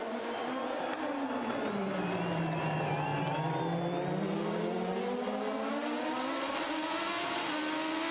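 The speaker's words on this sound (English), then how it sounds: "Ryan Briscoe is trying to fight off the challenge of Scott Dixon on the final lap of the race." IndyCar race cars on the final lap at Surfers Paradise, Australia, with a loud, sustained engine howl whose pitch sweeps down and back up as the cars brake and accelerate, continuous throughout with no talk.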